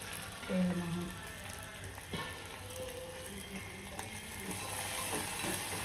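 Peanuts and salt being sautéed in a pan for Maharashtrian thecha, a soft continuous sizzle with light stirring scrapes, faint and steady throughout.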